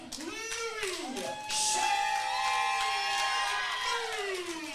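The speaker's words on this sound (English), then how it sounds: "this crowd is hot here tonight for Louis Shamui" A hot wrestling crowd cheers and shouts for 327-pound King Orca Louis Shamui at a Texoma Pro Wrestling show, a loud, steady roar that swells partway through, with whistles and sweeping tonal sounds riding over it.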